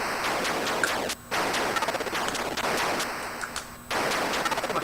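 Retro Atari 2600-era video game shots fire in rapid, noisy bursts of harsh static-like blasts, nearly continuous with two brief gaps, loud and close with no talking.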